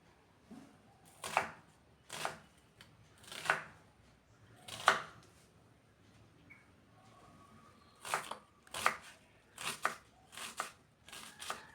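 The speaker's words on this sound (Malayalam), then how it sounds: "ഒരു സവാളയുടെ പകുതിയും ചെറുതായി അരിഞ്ഞെടുക്കുന്നുണ്ട്" Half an onion is finely chopped on a board, heard as quiet, crisp knife strikes in short bursts separated by pauses, with no one talking.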